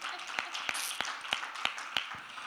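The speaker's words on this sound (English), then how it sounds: "Let's give her a round of applause." A conference audience at a gender-equality forum in Cape Town gives a round of applause: scattered, distinct hand claps at an uneven pace over a soft crowd bed, fairly thin rather than a full ovation.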